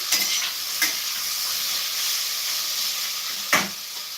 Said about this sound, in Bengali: ভাজাটা প্রায় আমার হয়ে এসছে